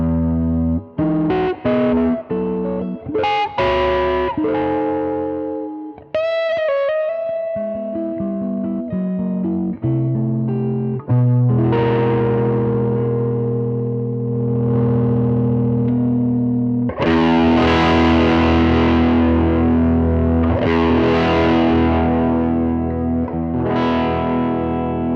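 Jazz guitar played through a Hotlanta Dual Drive distortion pedal with the guitar volume rolled low, giving warm overdriven chords and single notes that ring and sustain, loud and continuous with no talking.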